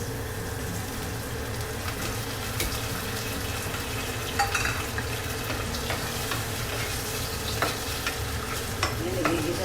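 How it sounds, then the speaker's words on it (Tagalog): Sardines and patola (sponge gourd) sauté in a pan, with a dense, continuous sizzle and frequent stirring scrapes and utensil taps up close, steady throughout with no speech. "nagigisa lang natin ito guys"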